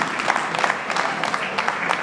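Guests at a wedding reception in Kigali clap loudly and close by, a dense patter of hands with a few sharper, uneven bursts of claps standing out.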